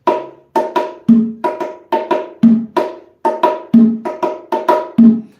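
Bongos play a repeating habanero rhythm, crisp hand strikes in a steady syncopated pattern with deeper open tones recurring each cycle.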